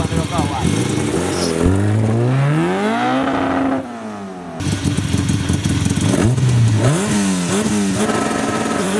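A project car's engine revs hard on acceleration with tires spinning, a loud rising and falling roar that drops briefly before surging again, close by with people talking over it.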